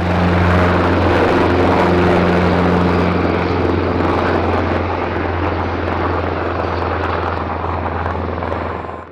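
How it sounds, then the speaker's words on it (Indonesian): A military helicopter, loud and close, with a steady heavy rotor and engine roar and a low thumping throb that holds for several seconds and then eases slightly toward the end. "Di sini ada helikopter militer."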